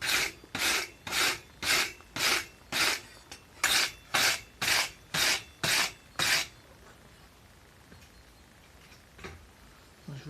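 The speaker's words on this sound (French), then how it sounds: "Un bon coup de brosse." Wire brush scrubbed over a freshly forged goblin knife blade in a forge workshop: about eleven loud, even rasping strokes in steady rhythm, close by, then a quiet stretch with no talking.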